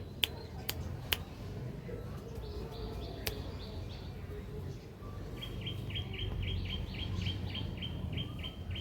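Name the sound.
pigeons calling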